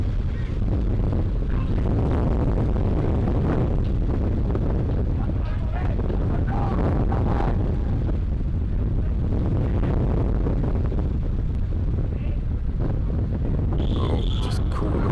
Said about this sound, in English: And it's so windy that we're trying to hold the cameras down.